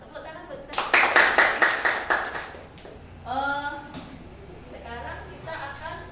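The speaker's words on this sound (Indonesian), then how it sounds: "Tepuk tangan buat kita." A classroom of high school students claps together in a short burst of rhythmic, fairly close applause, followed by a teacher speaking to the class.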